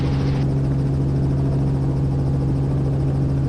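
A helicopter near gross weight lifting into a hover, its engine and rotor droning steadily and loudly from up close, a constant throbbing hum with no let-up.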